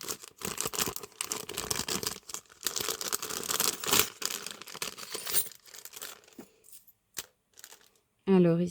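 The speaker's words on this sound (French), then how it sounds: "je vais déballer ça pour vous montrer" A scrapbooking shop purchase is unwrapped close by, with bursts of crinkling and tearing packaging that grow sparse toward the end, after which a voice speaks.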